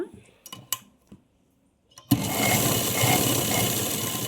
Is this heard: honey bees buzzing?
no